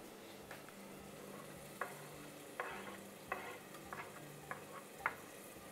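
Zaalouk eggplant mixture stirred into a tomato sauce in a pan, a steady soft simmer with repeated scraping spoon strokes and small clicks at an irregular rhythm, close and fairly quiet, no talking.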